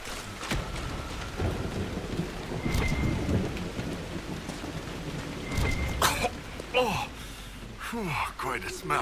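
Thunderstorm in the video game Dragon Age Inquisition: steady rain hiss with low rumbling thunder rolling in and out, and sharper crackles near the end, while someone talks over it.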